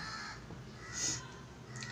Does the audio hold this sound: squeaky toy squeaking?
no